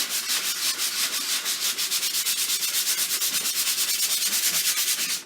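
Close, loud sanding of a gessoed surface in final prep, a steady rasping scrub in quick regular back-and-forth strokes, continuous and alone with no talk.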